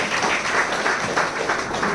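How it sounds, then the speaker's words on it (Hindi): Audience applause at a youth river conservation event in Pune, with steady, dense clapping throughout that comes from a large crowd in a hall or open venue. "जरा इस जवाब पे सबने सुना हो तो सब ताली बजा दो"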